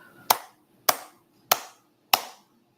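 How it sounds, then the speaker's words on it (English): Four sharp, evenly spaced hand claps close to the mic during a gentle hand-massage wellness routine, each clap ringing briefly before quiet returns. "And clap."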